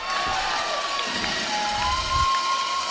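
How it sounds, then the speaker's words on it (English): A home crowd at a Canada versus USA rugby match cheers loudly and continuously after a try, a dense roar of many voices with scattered shouts and whistles throughout. "You can hear the home crowd cheering"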